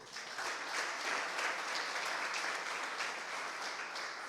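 Faint, steady applause from a church congregation praising the Lord during a Portuguese-language sermon, an even wash of many hands clapping at a distance.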